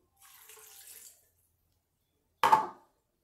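Water is poured into a pan of mutton karahi, first as a soft, steady pour for about a second, then a brief louder splash after a pause.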